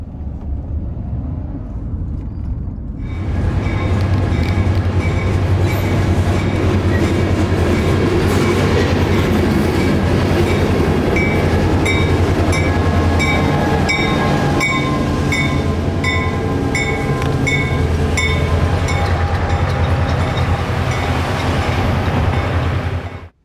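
A CSX train hauled by a YN2-painted locomotive rolls onto a spur track. It swells from faint to a loud, sustained rumble with rhythmic wheel clatter and squealing tones, heard close and continuing without talk until an abrupt end.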